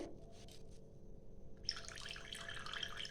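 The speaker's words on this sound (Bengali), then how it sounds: "এই জল পড়ছে" Water drips and trickles steadily from squeezed chhena hung up to drain, a faint continuous patter close by with no talking.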